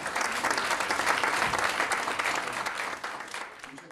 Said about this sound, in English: So please, let's give him a big round of applause.